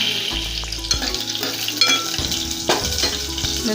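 Cumin, mustard seeds, fenugreek and chilies sizzle in hot oil for a kadhi tempering, a steady crackling fry with occasional stirring scrapes of the pan, close and loud with no talking.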